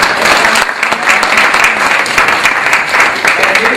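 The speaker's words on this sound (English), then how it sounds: "please stand and give a round of applause" A room full of attendees at a network marketing event stand and clap, a loud, dense, continuous burst of applause with some voices under it.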